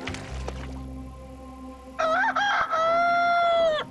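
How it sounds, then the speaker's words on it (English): A rooster in Guyana crows nearby, a loud drawn-out cock-a-doodle-doo with a rising then held tone, following a brief low rumble and a muffled voice. "Amanda, do you know where the rooster is"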